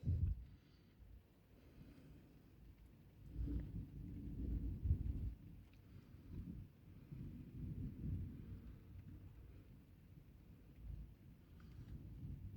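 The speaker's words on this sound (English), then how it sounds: "Got a thunderstorm here." Distant thunder rolls in low, soft rumbling swells with faint rain beneath during a thunderstorm in Georgia, a quiet, murky outdoor scene with no clear nearby sounds.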